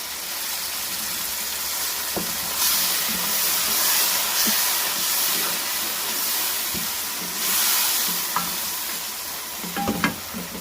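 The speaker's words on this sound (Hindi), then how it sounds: "अब 2 से 3 मिनट इनको भूनेंगे गोश्त को।" Beef pieces for yakhni pulao fry and stir in a pot, giving a steady hiss with sizzling bursts and occasional metal scrapes and clinks of the spoon, close and fairly loud with no talking.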